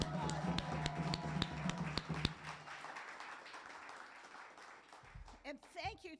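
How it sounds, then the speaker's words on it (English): An audience applauds at the Evergreen State College Tacoma graduation ceremony, with a brief burst of clapping that fades out as a speaker's voice takes over. "How about a big round of applause?"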